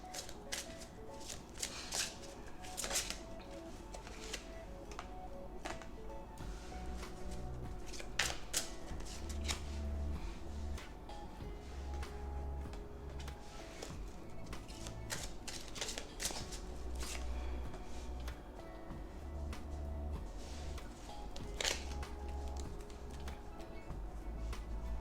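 Crystal Wisdom Healing Oracle cards are shuffled by hand close up, a steady soft riffling and sliding that runs for the whole stretch with small taps and flutters and no voices.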